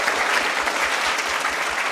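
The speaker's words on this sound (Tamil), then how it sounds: "அவங்களுக்கு நல்ல ஒரு கைத்தட்டல் கொடுத்துடலாம்." A studio audience on a Tamil TV talk show applauds guests, a steady dense wash of clapping that holds at an even loudness for the whole stretch, with no voices over it.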